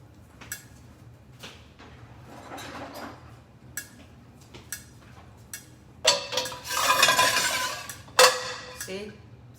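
A frying pan being moved into place, with scattered clinks and knocks of cookware followed by a louder burst of clattering and hissing, close, with some speech.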